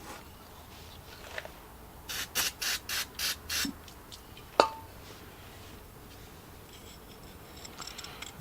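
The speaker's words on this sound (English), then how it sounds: "So, use a little brake cleaner and wash this all out." Brake cleaner is sprayed in six short, evenly spaced hissing bursts into the rusty parts of an old John Deere R68 mower, followed by a single sharp metallic click amid faint shop background noise.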